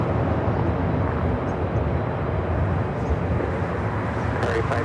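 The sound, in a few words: Asiana Airlines Airbus A380 airliner at LAX airport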